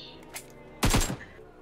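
A short, loud burst of rapid gunfire in PUBG Mobile, several shots packed into a fraction of a second, standing out over quiet game ambience with no talk.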